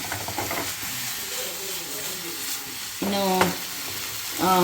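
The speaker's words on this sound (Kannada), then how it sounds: "ಓಕೆ ಈಗ ಫ್ರೈ ಮಾಡಲಿಕ್ಕೆ ಇಟ್ಟಿದ್ದೀನಿ ಇದಕ್ಕೆ ಆಯಿಲ್ ಚೂರು ಕೂಡ ಹಾಕಲಿಲ್ಲ" Food sizzles steadily on a hot tawa with no extra oil added, only olive oil already mixed in, as a constant close frying hiss; a voice talks briefly over it.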